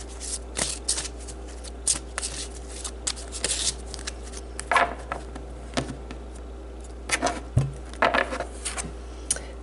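A deck of tarot cards is shuffled by hand: repeated crisp riffling and slapping bursts at an irregular pace, close and clear over a faint steady hum, with no talking.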